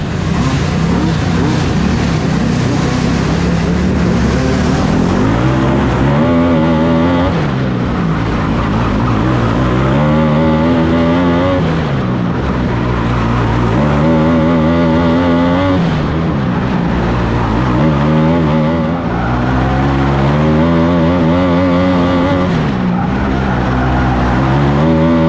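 An 18T racing kart engine screams through an indoor outlaw kart heat race at Roseburg, loud and continuous, its pitch rising and falling repeatedly with each acceleration and lift, no voices heard.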